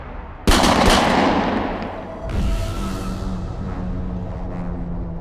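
Gunfire from a Jamaican action movie trailer opens with a sudden loud blast and then a second burst of shooting, the booms ringing out and fading under a sustained rumbling wash.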